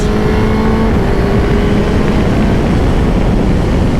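A Suzuki GSX-S1000GX motorcycle engine roars loud and continuous during dynamic riding, a dense, steady drone with heavy wind rush throughout.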